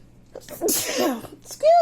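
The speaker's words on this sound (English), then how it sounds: "I put my face the other way and I didn't sneeze in my hand" A single sharp human sneeze, close and loud, with a short breathy wind-up before the burst and a brief voiced sound right after it.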